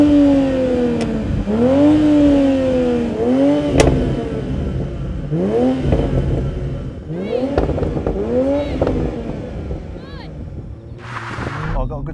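Toyota Supra and BMW Z4 sports cars launch side by side in a drag race, engines revving hard through repeated rising and falling gear-change sweeps, loud and close, with brief sharp pops between shifts.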